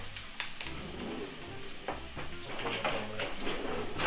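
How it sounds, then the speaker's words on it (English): Taco meat sizzles loudly in hot oil in a frying pan, a steady crackling fry broken by a few scraping stirs and clinks of a utensil against the pan, with no talking. "Make sure the pan don't blow up because this shit is sizzling awfully loud."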